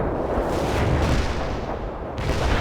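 Artillery strike explosions in World in Conflict, a real-time strategy game, rumble as a dense, continuous wall of booming blasts, loud and close, with no clear gaps between impacts.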